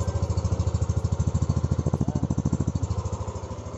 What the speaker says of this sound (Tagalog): Dinig na dinig nyo yung pipe ng ating NMAX